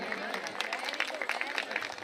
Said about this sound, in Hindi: देखिए यहाँ से तालियां लगातार रही